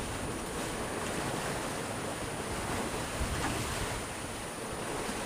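Sea and gusty wind of about 18 knots while sailing off Corsica between the Sanguinaires and Crovani bay, heard as a steady, unbroken rush of wind and wash filling the whole clip with no voices.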